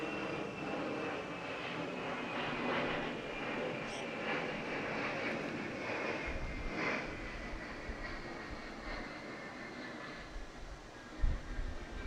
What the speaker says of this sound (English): Let this aircraft pass.